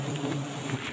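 Dense, continuous buzzing of many giant honey bees (Apis dorsata) close by, a droning swarm sound with no pauses.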